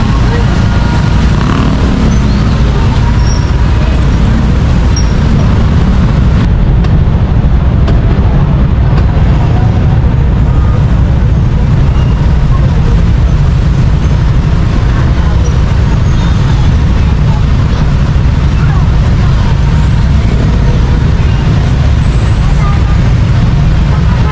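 Heavy slow-moving road traffic at the Lower Bicutan and C6 interchange crossing, held up by a stoplight: a steady, loud, dense rumble of buses, cars and trucks with occasional air-brake hiss, continuous throughout.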